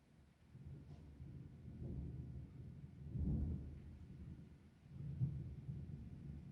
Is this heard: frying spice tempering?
no